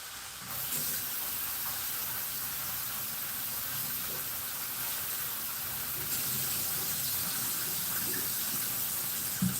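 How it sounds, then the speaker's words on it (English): Tap water runs steadily over freshly cut acorn squash being rinsed in a kitchen sink, a continuous hissing splash that holds for the whole stretch with no talk over it. "Now I'm going to rinse them off really quick."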